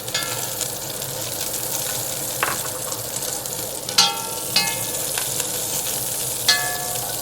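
Sliced onions fry in a pan with a steady broadband sizzle, broken by a few sharp clinks of a utensil against the pan and brief stirring scrapes. No one speaks.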